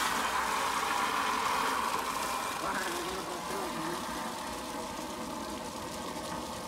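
Tractor engines, Swaraj 855 and John Deere 5210, run steadily at a drag race, giving a continuous mid-pitched rumble under a broad noisy wash that eases slightly partway through.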